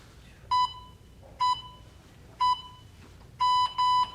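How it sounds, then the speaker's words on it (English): A phone timer alarm signalling the switch between exercises in a workout class, five short, bright electronic beeps at a steady pace, the last two closer together, clear and alone over quiet room noise. "you're listening for the sound of my phone to switch."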